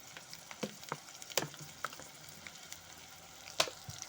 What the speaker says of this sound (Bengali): সমস্ত মশলার সাথে আমি আলুটাকে ভালো মতো কষে নেব